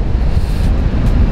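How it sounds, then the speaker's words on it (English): Rough sea breaking at a beach at dusk, a loud, continuous broadband roar with heavy low rumble and wind buffeting the microphone, no speech. "You can probably hear it's pretty loud right now, and that's because the seas are quite rough."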